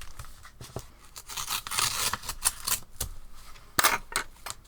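Paper tears and rustles up close as an envelope or card is pulled open, with bursts of crinkling and a few sharp rips.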